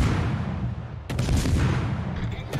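Heavy, rumbling naval gunfire from a warship game featuring a French-German destroyer, a dense low boom with a sharp burst of impacts around the one-second mark and another near the end.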